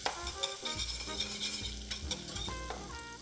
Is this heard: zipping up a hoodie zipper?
no